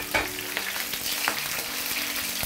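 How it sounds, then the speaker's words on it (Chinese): Scallions sizzling in hot oil over medium heat in a wok, a steady crackling fry with occasional sharper pops and stirring, close and continuous without talk. "把这个葱头稍微炸一下之后，接下来我们再下入葱叶的部位"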